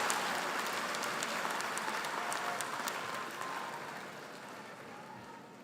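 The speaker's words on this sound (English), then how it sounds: "One more round of applause for the 2023 graduates of the Master of Science in Business" A commencement crowd applauds the 2023 business analytics graduates with a broad, continuous patter of clapping that fades gradually toward the end, heard without speech.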